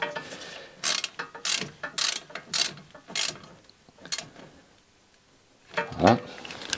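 Ratcheting tightening of a small rusty 10 mm screw on an Alfa Romeo, a series of close, loud clicking bursts in quick rhythmic strokes, pausing before a final heavier clunk, with no talk.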